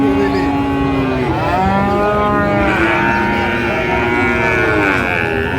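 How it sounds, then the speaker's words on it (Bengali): A seven-month-old Sahiwal bull calf at a livestock market in Dinajpur lets out loud, close moos that rise and fall, one after another, over a busy crowd murmur. "দর্শক শুনছিলেন, শাহিওয়ালের ষাঁড় বাচ্চা।"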